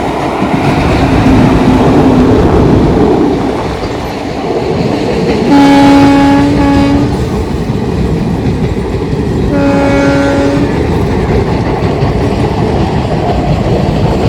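A loud train rumbles past close by, its horn blaring twice in long blasts over the steady roar of wheels on the rails.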